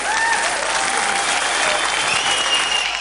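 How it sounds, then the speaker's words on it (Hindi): Audience applause at a televised bridal contest show, a dense, continuous wash of many hands clapping close and loud throughout, with no break and no talk. "इस प्यार की नई भाषा के लिए तालियां।"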